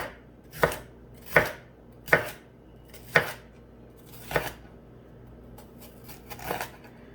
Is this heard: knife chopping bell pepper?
yes